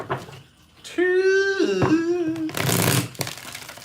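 Tarot cards give a brief, noisy riffle-like shuffle burst lasting about half a second, following a drawn-out vocal sound and brief speech.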